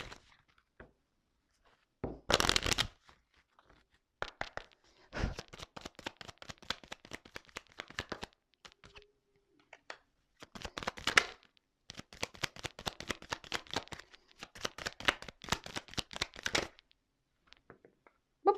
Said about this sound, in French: je vais prendre quelques cartes, juste 3 cartes